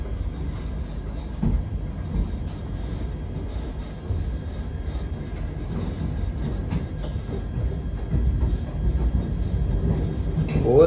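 A Vande Bharat express running on the Nagpur to Secunderabad line, heard from inside as a continuous low rumble of wheels on track with faint rattles, steady throughout without speech.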